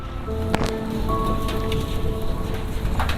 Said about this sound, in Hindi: बारिश ने ओले कर दिए यहाँ पे।